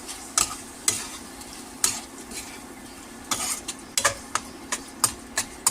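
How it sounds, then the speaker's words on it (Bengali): Beef frying in a pan for pasta, with a low steady sizzle under sharp, irregular scrapes and clinks of a utensil stirring against the pan. "মাংসটা দেওয়ার পর আরো 2 থেকে 3 মিনিটের মতো আমরা ভেজে নেব এটাকে"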